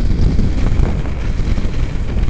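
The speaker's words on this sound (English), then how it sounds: "It's getting very windy." Strong wind buffets a microphone outdoors and produces a dense low rumble that is loud and constant throughout, with no other sounds.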